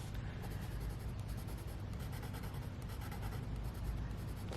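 A colored pencil, here a black one, scratches steadily across paper while shading a drawing of a cat and water puddles, making a continuous close, soft scraping texture with no talk.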